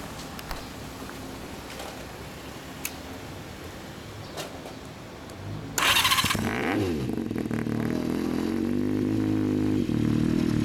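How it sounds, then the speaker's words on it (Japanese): A fully restored first-generation Honda CBX400F motorcycle is quiet at first, then its engine fires up abruptly and revs loudly and close by, holding a strong, throaty roar to the end. "エンジン音聞かせてもらえますか。"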